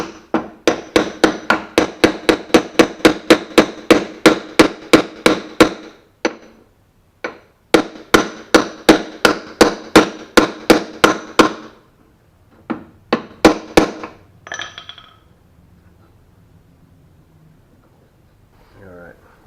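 Rapid, close metallic hammering on the lower door hinge pin of a 1982–1992 Firebird/Camaro, two long runs of evenly spaced sharp strikes, then a few scattered hits and a brief voice as it winds down.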